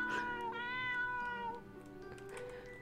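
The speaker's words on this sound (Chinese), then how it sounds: "我变成猫了，可爱的小猫咪，过来让姐姐摸摸吧" Cat meows in a horror RPG video game, a string of drawn-out, tonal mews close up over soft background game music, with no talking.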